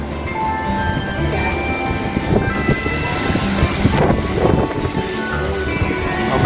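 Strong wind from Hurricane Zeta roaring at a Cancun resort, a steady loud rush that buffets the microphone the whole time.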